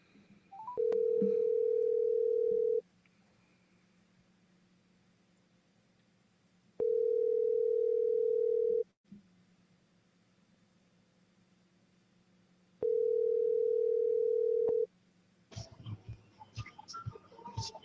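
Telephone ringback tone heard while calling someone back during a dating-stories call-in show: three long steady tones about two seconds each, separated by roughly four-second gaps, followed by a burst of other noise at the end.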